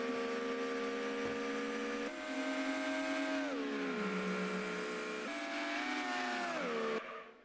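A Mazda MX-5 Miata races in Gran Turismo 2, its engine whining steadily through the gears. The pitch climbs, drops and climbs again with each shift and throttle change, loud and continuous throughout.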